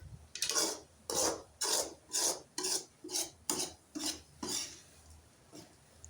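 A carrot and egg mixture stirred briskly in a bowl, a rhythmic series of about ten scraping, rasping strokes of utensil against the vessel, close and steady with brief pauses between.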